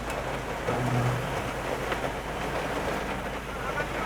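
Heavy afternoon downpour during a drive, a dense, steady hiss of rain filling the whole stretch at constant loudness, with a voice briefly audible underneath.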